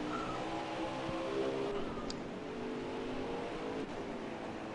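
Dirt race car engines in a racing video game drone and rev steadily throughout, several cars running side by side in a dense, continuous roar with no talking.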